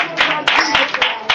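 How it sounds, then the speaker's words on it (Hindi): A church congregation claps hands in thanks during a Hindi worship service, producing a short run of rhythmic, fairly close bursts of clapping roughly every quarter second. "हम तालियां मारकर धन्यवाद देंगे।"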